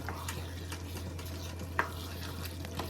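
Vegetables stir in a pan of sauce for a cottage pie, giving a soft, continuous sizzle with occasional light scrapes and one small clink, quiet and steady under a low background hum.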